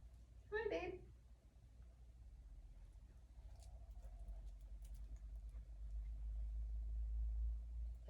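A truck rumbles past outside, a low, distant rumble that swells steadily toward the end, after a short bird-like chirp near the start.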